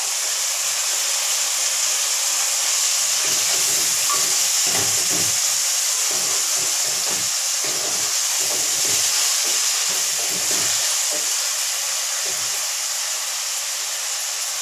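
Tomatoes and ginger-garlic paste fry in a kadai for biryani, giving a steady, loud hiss and sizzle that holds throughout with no talk over it.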